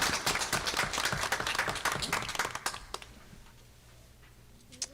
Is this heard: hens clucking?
no